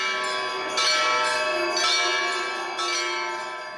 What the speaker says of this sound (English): others rang the temple bells non-stop